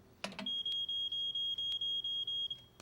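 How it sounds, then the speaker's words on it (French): During a cartoon home fire drill, a smoke alarm sounds a piercing, evenly pulsed series of about ten loud beeps after a brief knock, with no talk. "dès que l'alarme se mettait en route, il fallait sortir de la maison le plus vite possible"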